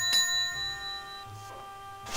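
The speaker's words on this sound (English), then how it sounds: "let's ring the bell" A bell at the purser's office in the Titanic: Adventure Out of Time video game rings once with a clear, sustained metallic tone that slowly fades, followed by a faint second strike near the end.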